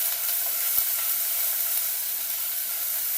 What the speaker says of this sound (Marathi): अद्रक लसूण तेलामध्ये छान लालसर होईपर्यंत परतवायचं।